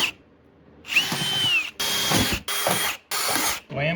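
A power drill bores holes through a taped car bumper in four short, close bursts, each spinning up with a rising whine and cutting off sharply, with brief silent gaps between them.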